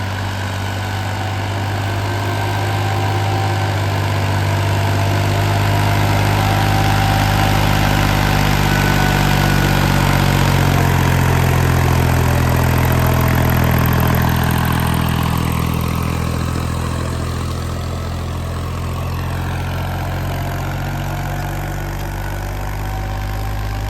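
A Massey Ferguson 254 tractor engine runs steadily with a deep, rumbling idle that swells slightly in the middle before settling, continuous and close throughout.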